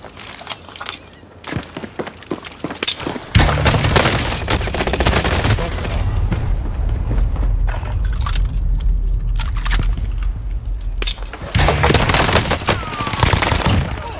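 Sustained bursts of machine gun fire in a multiplayer World War II style shooter game, rapid and loud, a short burst first, then a long dense fusillade and another burst near the end, with no talking.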